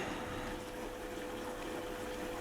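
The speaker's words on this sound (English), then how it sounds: "It's putting in quite a bit of water." A Beko washing machine takes in water for a rinse, giving a steady rushing, pumping hiss with a faint hum, constant and close throughout.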